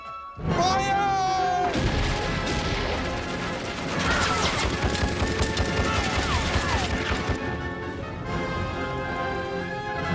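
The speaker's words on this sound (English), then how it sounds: "There's machine gun fire from the Turkish left." Machine gun fire from a battle in the desert rattles in dense, continuous bursts, loud and chaotic, mixed with crashes and other battlefield noise.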